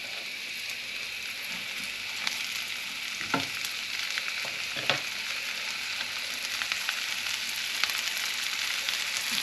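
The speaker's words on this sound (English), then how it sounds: "And we're going to fry this lettuce." Lettuce fries in a pan with a steady, bright crackling sizzle throughout, broken by a few louder pops and stirring knocks, close and continuous.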